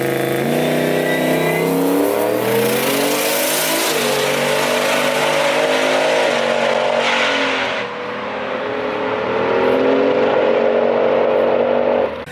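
Turbocharged 8-second street truck making a drag racing pass with the blow-off valve jammed shut, its engine roaring loud and close, pitch climbing through gears with a brief dip near the end before pulling hard again.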